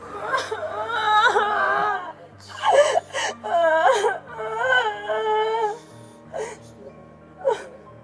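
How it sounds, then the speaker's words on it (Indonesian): A woman cries loudly in rising, wailing sobs with gasping breaths between them, close and alone, fading into short whimpers toward the end. "lo tambah nangis lagi, tambah kencang lagi nangisnya"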